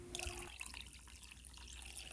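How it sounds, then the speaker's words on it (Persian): Water runs faintly into a glass that still holds fruit syrup, a soft trickling and splashing in a home kitchen, quiet and steady with no talking. "به 4 لیوان آب احتیاج داریم که من داخل همون لیوانی که شیره شده بود آب ریختم"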